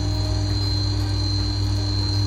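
A glass grinder used for smoothing leaded glass edges runs with water in its reservoir, giving a steady, fairly loud motor hum with a constant high whine throughout and no voices.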